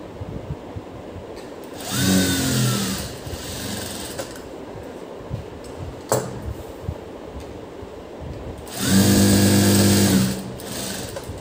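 Sewing machine stitching a blouse joint, two loud close whirring runs of about a second and two seconds, separated by quieter handling noise and a sharp click.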